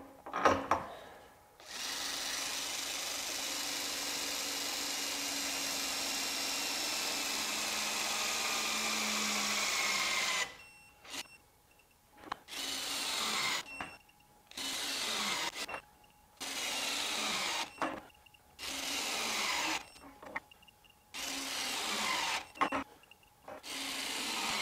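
A mid-torque cordless impact wrench, a Milwaukee 2960 or a Ryobi P262 working in mode 3 on large fasteners, runs in one long loud burst. It then fires a rapid series of short bursts separated by brief silences.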